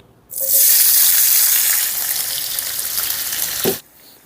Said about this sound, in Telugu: ఆయిల్ వేడైందండి ఇలా పొడవుగా తరిగిన రెండు మీడియం సైజు ఉల్లిపాయ